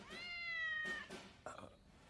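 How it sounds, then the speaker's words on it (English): A cat gives a close, drawn-out meow followed by a few shorter chirping calls over quiet background noise. "She got to keep meowing."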